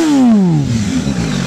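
An MV Agusta F4 motorcycle engine is revved hard nearby, a loud roaring blip whose pitch falls quickly as the revs drop back toward a rumbling idle.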